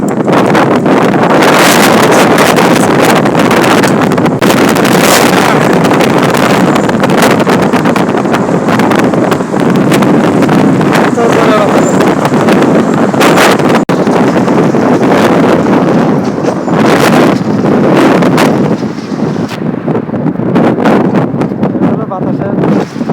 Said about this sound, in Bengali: নতুন করে ঝড় শুরু হয়েছে, ডেলি ঝড় হয় প্রায়।